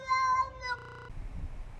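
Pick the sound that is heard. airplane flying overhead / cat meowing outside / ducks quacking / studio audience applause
cat meowing outside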